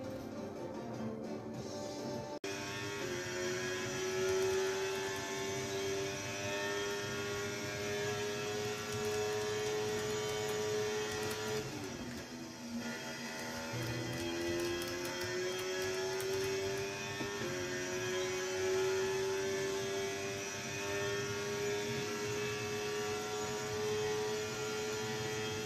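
A Ferrari Formula 1 car engine in the racing video game F1 23 at Jeddah, a sustained high-revving whine with rising and falling gear tones, steady and fairly loud with no talk over it.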